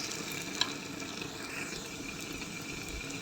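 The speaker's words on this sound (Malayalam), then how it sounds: "ഇതിൻ്റെ പച്ചവാസന പോകുന്നവരെ ഒന്ന് ഫ്രൈ ചെയ്ത് കൊടുക്കാം" Garam masala and turmeric fry with onions in a pan for a Kerala-style prawn roast, giving a faint, steady sizzle with light stirring and one small clink near the start.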